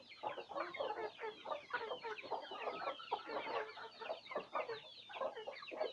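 Two chickens in a big cage cluck continuously in soft, irregular bursts, fairly close but quiet, with no talking over them.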